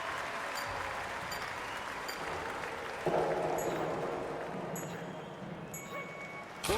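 Crowd applause in the London 2012 video game stays steady throughout, moderately loud, and swells a little midway.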